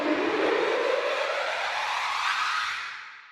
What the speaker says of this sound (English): and then it sounds like this glissandi being triggered.